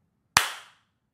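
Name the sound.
audience clapping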